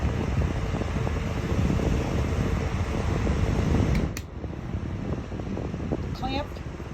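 A Ryobi clamp fan runs on its high speed setting, giving a loud, steady close whoosh of rushing air that drops to a softer hum partway through as the speed changes.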